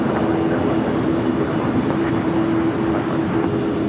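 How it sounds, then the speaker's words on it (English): Heavy jet airliners passing at LAX, a loud, steady roar with a low droning hum that holds for the whole stretch, heard from fairly close with no talk over it. "It's like the march of the heavy jets."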